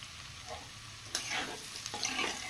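Salted chicken frying in a pan sizzles close up while a utensil stirs it, with a couple of sharper scrapes over the steady hiss.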